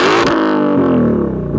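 A 2020 Shelby GT500's exhaust in normal mode drones at a steady idle, a deep, loud, continuous rumble with a slight pitch shift partway through.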